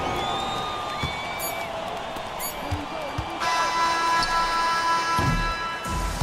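Crowd noise from a basketball video game at a Euroleague-style cyber tournament swells into cheering after a victory, with ball bounces and a steady background roar under commentary.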